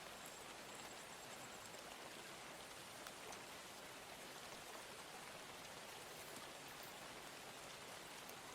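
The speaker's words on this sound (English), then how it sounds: "Rain noises make me eepy." Steady rain ambience plays quietly in the background, a soft even patter that runs unbroken with no voices over it.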